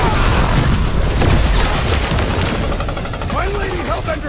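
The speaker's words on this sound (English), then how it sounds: "Time for the big guns!" Heavy weapons fire in the Guardians of the Galaxy video game, a dense, loud barrage of rapid gunshots and booms layered over game music and effects, continuous for several seconds.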